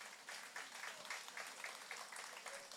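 Applause from a seated audience welcoming a speaker onto the stage at a French talks event, faint and fairly steady throughout, with a soft broadband patter and no voices over it.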